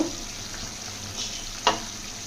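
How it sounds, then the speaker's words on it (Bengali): Kalojam sweets, made with sweet potato, bubbling in hot sugar syrup in a pan: a steady soft sizzle and hiss throughout, with one brief sharper crackle or clink near the end. "আমি মিষ্টিগুলো দিয়ে 4 থেকে 5 মিনিট একটু জাল করে নেব।"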